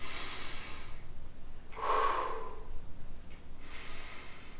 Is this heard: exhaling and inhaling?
yes